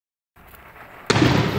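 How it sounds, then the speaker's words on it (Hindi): A Diwali firecracker is lit, giving a soft fizzing hiss, then bursts with one loud, close bang that rings briefly. "फिर उस पटाखे को जलाया,"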